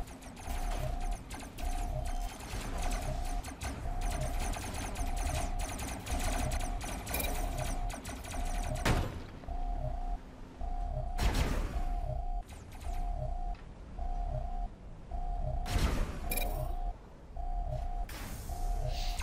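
Rapid mechanical gunfire from the robot combat game Robocraft, a buzzing stream of shots broken by short beeping pulses and a few louder bursts and impacts, with no talking.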